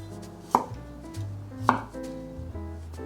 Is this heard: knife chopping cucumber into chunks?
yes